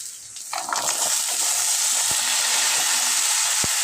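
Yardlong beans hiss and crackle in a frying pan with dried fish, a steady sizzle swelling after the beans drop in, with a couple of sharp clinks from a utensil against the pan.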